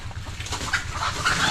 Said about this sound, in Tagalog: Ay, pati manok ang dami nasa taas ah.